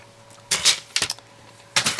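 Paper craft scissors or a die snip cut through card stock for a fridge-shaped greeting card, heard as three sharp, close crunching bursts with short pauses between, no talking.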